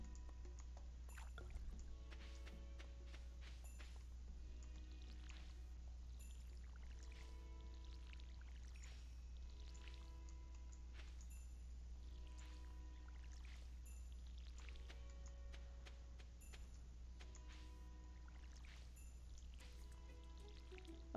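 Watering can pouring water over rice crops in the farming game Stardew Valley Expanded, a steady light trickle and splash repeating in short bursts over a constant low hum and soft game music.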